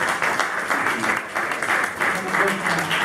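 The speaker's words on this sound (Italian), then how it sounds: "Applauso, grazie." Audience applause at a public event in the Conegliano–Valdobbiadene area, a steady wash of clapping hands holding for about three seconds, with a voice faintly audible beneath it.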